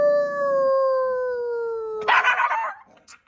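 Bela the dog lets out a long, steady drawn-out howl that slides slightly downward, then breaks into a quick burst of rough, close barks and yips before trailing off.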